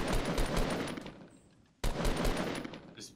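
Dense automatic gunfire from a Fortnite match, loud and continuous bursts for nearly two seconds, a brief lull, then another heavy volley of rapid shots.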